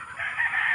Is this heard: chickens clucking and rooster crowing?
yes